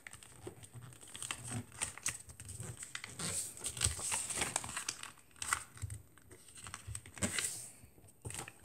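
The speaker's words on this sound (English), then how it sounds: "you're just going to take this and you're just going to fold it up like this" A sheet of paper folded and creased into a paper airplane, close crinkling and rustling in uneven bursts, with sharper crackles as the creases are pressed, no voice.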